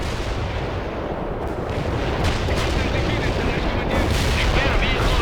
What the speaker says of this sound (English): Fire mission confirmed. Bombard the target coordinates.